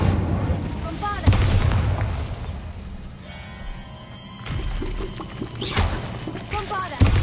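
Bombarda blasting spell explosions in the video game Hogwarts Legacy: heavy booms land at the start and end, with a quieter rumbling stretch between, mixed with game voice sounds.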